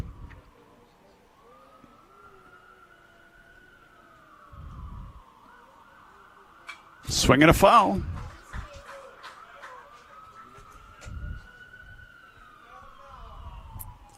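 An ambulance siren wails faintly in the distance, rising and falling steadily near a Legion baseball game, with a commentator's voice and a burst of crowd noise over it.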